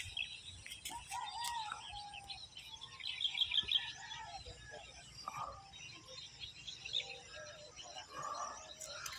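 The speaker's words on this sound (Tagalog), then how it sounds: "Maraming ibon pa dito sa sa Masasa Beach." Birds chirp at Masasa Beach, scattered short calls and tweets near and far over soft background hiss.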